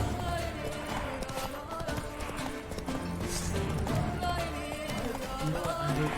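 Roach, the horse in The Witcher 3, gallops with a steady, fast clip-clop of hooves that stays close and continuous throughout, with game sounds and a voice underneath.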